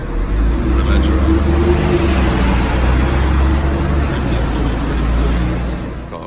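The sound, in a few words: London double-decker bus in street traffic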